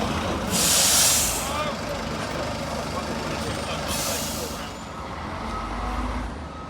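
A Dennis Dart bus in Metrobus livery arrives out of service, its engine rumbling nearby with two sharp air-brake hisses, under outdoor crowd noise and voices.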